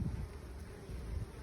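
Honey bees swarm and buzz around their hive, a dense, steady low hum with no breaks that holds at a faint, even level throughout.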